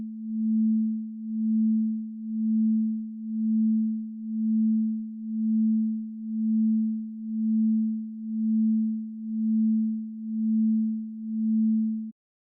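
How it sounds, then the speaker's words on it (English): A pure 220 Hz sine tone with a chorus effect hums steadily for about twelve seconds, its loudness swelling and dipping in a slow, regular pulse before stopping abruptly. "for a 220 Hz sine wave"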